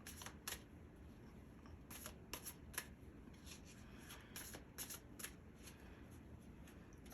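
Tarot cards are shuffled by hand during a reading, a close series of crisp riffling bursts and soft papery slaps repeating irregularly over quiet room tone, with no voices.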